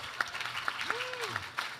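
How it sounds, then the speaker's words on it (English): A startup showcase audience gives a brief round of clapping, a quick patter of many hands, moderately loud, with a voice speaking over it. "round of applause."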